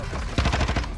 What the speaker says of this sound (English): Where am I getting shot from, bro?